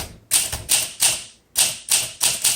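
Rapid, crisp keystrikes on a 1958 Olympia SM3 manual typewriter, typed in quick bursts of bright clacks with brief pauses, close and fairly loud with no talking.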